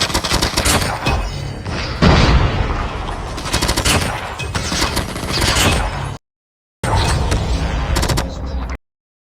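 Tommy gun firing in a video game, long bursts of rapid automatic fire with booming hits, loud and close, cutting out briefly before another burst.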